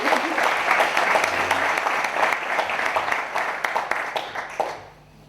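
Audience applause at a mystery-themed conference in Zamora, Spain, dense steady clapping from a hall crowd that holds for about five seconds, then tapers and stops abruptly.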